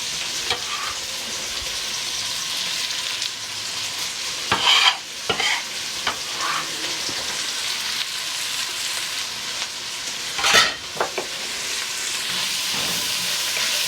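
Chopped onions and poblano peppers sizzling in a pot for brisket chili, a steady close hiss punctuated by several scraping spoon stirs against the metal, no talking.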